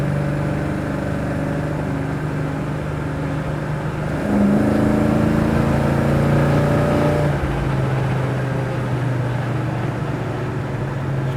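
A 1966 Chevrolet Chevelle SS cruising at highway speed, its engine droning steadily with a clear shift change in the middle as the pitch jumps and then settles, with continuous road noise and no talking.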